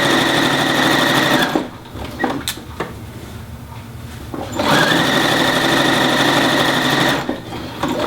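Sewing machine running steadily while stitching argyle fabric, a close, loud mechanical whir in two long bursts with a brief slower pause between them where the machine nearly stops.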